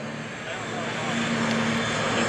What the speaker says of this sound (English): here comes another one of our T-34s in